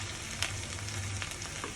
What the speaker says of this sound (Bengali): আর এখন আমি পেঁয়াজ আর তেজপাতার বেরেস্তাটা করে নেব